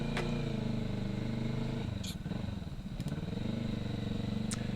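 A motorcycle engine runs nearby in Thailand, a steady buzzing drone that rises and dips slightly as it passes, with a few faint clicks and clatters on top and no talk.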